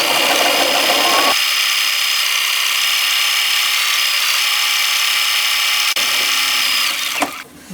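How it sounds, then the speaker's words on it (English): A sewing machine stitches a tote bag strap with a steady, loud mechanical whirr that runs continuously, slowing and stopping near the end. "And now we're going to the sewing machine to sew on the strap."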